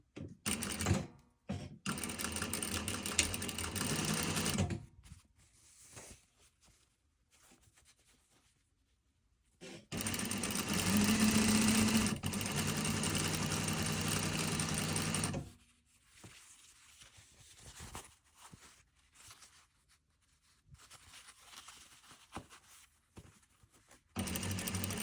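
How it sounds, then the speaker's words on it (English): A sewing machine stitches a 1/4 inch seam along a front fly zipper, in two long close bursts of rapid whirring and clatter separated by quieter pauses with faint handling noises. "I just want to start sewing 1/4 inch seam allowance all the way down."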